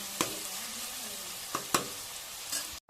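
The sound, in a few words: frying ginger garlic paste in oil for mutton curry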